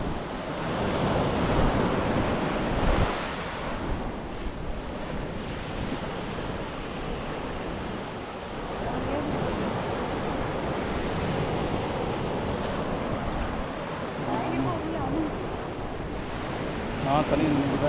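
Sea waves wash onto a beach in Oman with a continuous roar of surf, steady and fairly close, mixed with wind buffeting the microphone.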